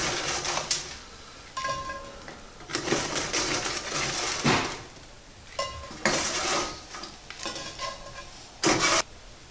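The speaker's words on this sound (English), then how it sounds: "we're going to take our tater tots that we just took out of the oven and we're going to put them in the bottom of" Tater tots hot from the oven go into the bottom of a cast iron skillet, giving a series of clinking, scraping metal knocks in uneven bursts, close and fairly loud, with no talking.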